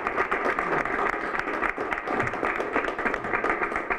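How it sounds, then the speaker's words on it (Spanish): Audience applause at a community event in Cholila, a steady dense round of clapping from a crowd throughout, fairly loud and continuous with no pause. "Aplauso, por favor, para Fabricio Arévalo."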